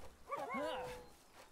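Dire Howl, a wolf mount in the Palworld video game, gives a short, close yelping bark with a whining tail, set against faint background sound.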